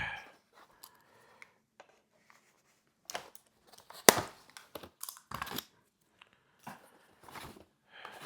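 A knife cutting plastic ties on the packaging of a Maxi-Cosi Iora bedside bassinet, several short snips and scraping clicks scattered among quiet pauses and rustling of packaging.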